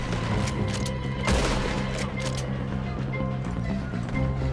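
Gunfire in the Red Dead Redemption 2 video game, a dense volley of overlapping shots and booms over a steady low game soundtrack, with one sharp louder blast near the middle.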